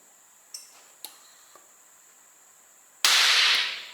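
HHO gas from a 13-plate generator flashing back through the hose of a rotating pulse detonation engine: a few small ticks, then one sudden loud, close blast that roars for nearly a second before trailing away.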